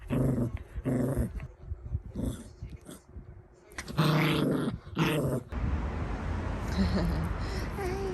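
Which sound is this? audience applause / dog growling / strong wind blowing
dog growling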